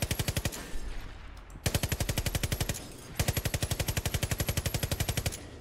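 A Far Cry 5 gun fires at a wall in two bursts of rapid, evenly spaced automatic shots, loud and close, with a short pause between them.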